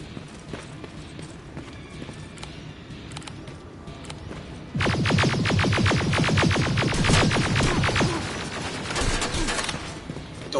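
Enemy gunfire in Terminator Resistance, a rapid run of sharp, evenly spaced shots that breaks in loudly partway through over quieter game ambience, keeps up for a few seconds, then thins to scattered bursts.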